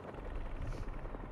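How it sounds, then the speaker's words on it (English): Helicopter blades in Marvel's Spider-Man 2 give a low rhythmic pulsing thump with engine drone, steady and fairly close over a brief stretch. "Helicopter's blades."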